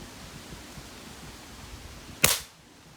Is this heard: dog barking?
no